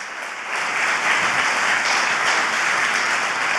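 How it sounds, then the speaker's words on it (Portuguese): Church congregation applauding at a couples' meeting, a dense, steady wash of clapping that swells after half a second and holds loud and even throughout, with no talk over it. "Eu acho que Jesus merece uma salva de palmas por isso."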